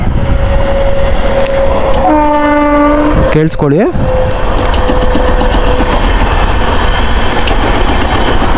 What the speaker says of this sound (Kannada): ಟ್ರೈನ್ ಹೋಗ್ತಾ ಐತೆ ಗುರು